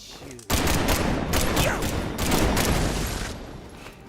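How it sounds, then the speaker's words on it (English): A sudden loud burst of sustained gunfire, a mag dump in the video game Marvel's Midnight Suns, erupts after a quiet moment and roars for several seconds before tapering off. "I'm just going to end this with a mag dump."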